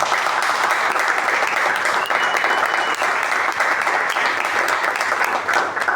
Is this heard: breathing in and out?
no